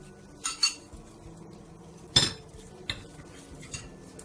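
A metal spoon stirs jjajang sauce thickened with starch water in a pot, giving sharp intermittent clinks and scrapes against the metal with quiet gaps in between.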